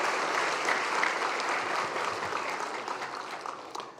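A church congregation at a New Year's Eve worship service applauds steadily, a moderately distant, even wash of clapping that carries on for several seconds without talk.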